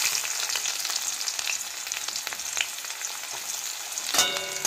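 Chopped onion hits hot oil already sizzling with cumin seeds, giving a steady close-up frying hiss with faint stirring scrapes and a sharper surge of sizzle near the end; no one speaks.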